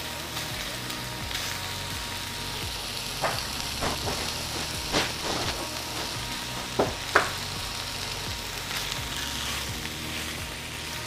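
Eggs frying in a pan during home soul food cooking, an even close-up sizzle and crackle with a handful of soft clinks and taps, no talking.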